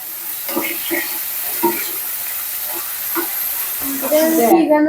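Green peas and lentil dumplings are sautéed in a pan, with a low sizzle and occasional stirring scrapes while someone talks intermittently in the background.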